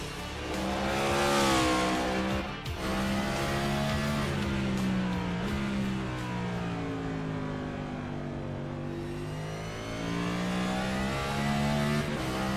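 An ICON Cup Series race car on a qualifying lap at Martinsville, its engine droning loud and close as it winds up, drops pitch into the corners and climbs again down the straights, with a faint tire squeal.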